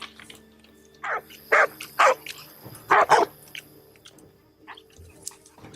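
Hunting dogs bark at a big boar hog they have cornered during a hog hunt: about five loud, close barks arrive in quick bursts over a low outdoor background, with no talking.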